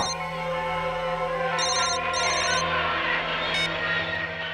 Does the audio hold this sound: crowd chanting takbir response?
no